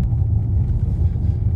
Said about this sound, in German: Jetzt sind wir aber hier in der 30er-Zone unterwegs und Kopfsteinpflaster.